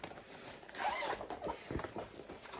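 A zipper is pulled along the pouch of a Thirty-One bag in a few quick, scratchy strokes, close and fairly quiet.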